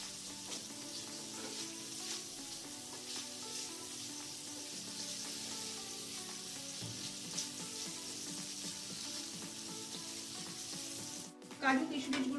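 Cashews and raisins frying in a pan over a medium flame, giving a steady, continuous sizzle that holds evenly throughout with no talking, ending in a brief louder burst.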